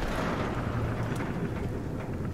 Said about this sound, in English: I think it's raining outside